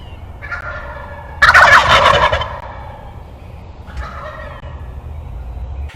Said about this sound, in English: Sometimes you can hear the toms gobble late in the evening or early in the morning